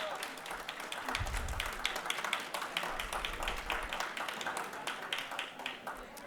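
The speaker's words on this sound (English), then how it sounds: "give him a round of applause" An audience applauds a father seated at the back of a children's event hall, a steady moderate round of clapping with scattered faint voices, continuing for several seconds.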